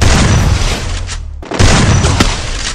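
Loud, close bursts of gunfire in Free Fire crack in quick succession, with a brief near-silent gap before more shots and rumbling booms follow.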